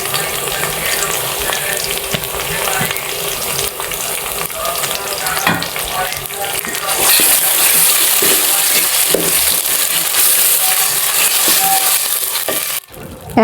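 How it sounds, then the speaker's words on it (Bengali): Onion, ginger and garlic sizzle steadily with spices in a hot pan, a continuous close frying hiss with occasional stirring scrapes, growing louder and denser partway through before cutting off abruptly near the end. "পেঁয়াজটা ভাজা হয়ে গেছে, এখন আমি সব ধরনের মশলা দিয়ে দিচ্ছি, আদা রসুন পেঁয়াজ"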